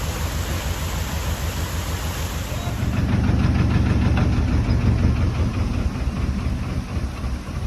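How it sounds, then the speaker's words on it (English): A canal boat's engine chugs close by with a steady low knocking throb, growing a little louder and heavier partway through before easing, with faint voices in the background. "I'm going to stop the engine"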